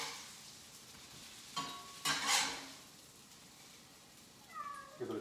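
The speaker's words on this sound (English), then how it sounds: "That's my cat meowing." A domestic cat meows twice near the end, short rising calls over quiet kitchen sounds of a stove, a stir and a brief clatter of pans while arancini cook.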